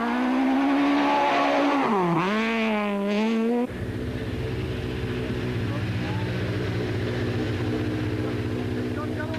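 A Volkswagen rally car from the 2004 Volkswagen Rally slides tail-out for spectators, the engine note rising and dipping sharply before settling into a loud, steady drone, with a voice talking over it.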